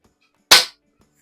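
A single sharp crack from a Diana P5 Magnum air pistol fired at silhouette targets, loud and close, with a quick decay into near silence.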